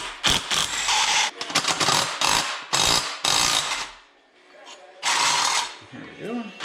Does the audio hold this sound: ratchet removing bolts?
yes